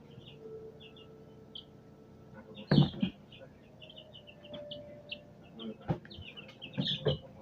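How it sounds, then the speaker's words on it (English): Chickens and a rooster in a backyard flock give scattered soft clucks and short calls, with a few louder bursts of fowl chatter and light movement nearby. "Those are chickens."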